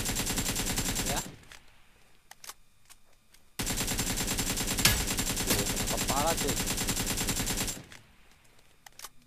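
Rapid automatic gunfire from the mobile battle royale game PUBG New State, fired through a 2x scope at around 150 meters, in two loud sustained bursts separated by a short pause, with faint game ambience in between.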